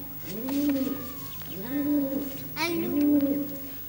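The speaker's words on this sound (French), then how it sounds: "Et quel est le cri de la colombe, du pigeon? C'est un roucoulement." A pigeon or dove gives three soft, throaty cooing phrases in a slow rhythm, each a rising and falling warble, close by against a quiet background.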